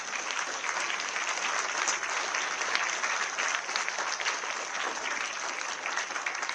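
An audience of schoolchildren at a junior Hindi debate breaks into dense, sustained applause, a steady wash of many hands clapping at once that holds even throughout.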